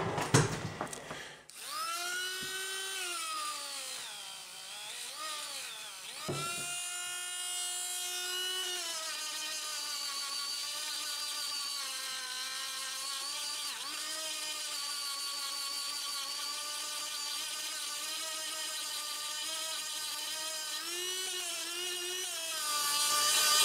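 A rotary tool with a felt wheel and Zam compound buffs a piece of horn coral, a steady high whine running throughout with slight pitch wavering as pressure changes.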